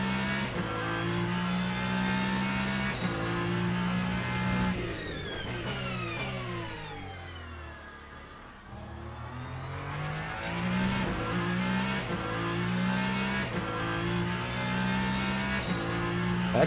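An LMGT3 race car in Le Mans Ultimate, its engine howling steadily at high revs, dipping through downshifts around midway before climbing back to a sustained loud scream.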